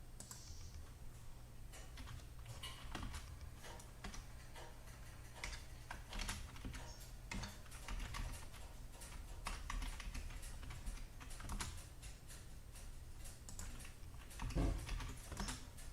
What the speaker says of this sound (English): Type in the labels.